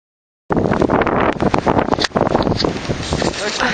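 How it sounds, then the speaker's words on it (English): Strong gusting wind from a Minnesota blizzard roars into the microphone outdoors, loud and continuous after a brief silence, with buffeting surges. "It's just windy."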